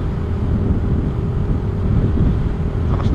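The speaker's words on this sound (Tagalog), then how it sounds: "Lakas ng hangin, guys!" Strong wind roars steadily against the microphone during a solo motorcycle ride on a mountain road near a tunnel, a loud, constant low rumble with no voices.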